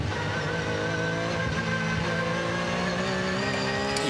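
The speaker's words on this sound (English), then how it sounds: "You hear the engine and the transmission whining around this really short circuit at the Norisring." A GT race car at the Norisring street circuit in the ADAC GT Masters 2023 race, its engine droning loudly with a high transmission whine layered on top, sustained onboard without talk.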